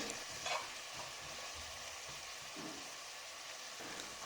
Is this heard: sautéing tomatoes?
yes